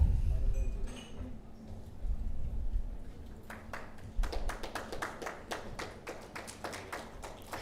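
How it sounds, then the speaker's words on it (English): An awards ceremony audience applauds. A low rumble and murmur come first, then a few close, distinct handclaps rise into a loose patter of clapping. "Ladies and gentlemen, please be generous in applauding."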